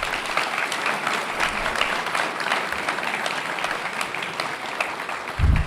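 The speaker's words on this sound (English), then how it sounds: "Can we all give our art students a big round of applause?" Audience applause for art students at a school board meeting, a steady roomful of clapping that carries evenly through, with a brief low thump near the end.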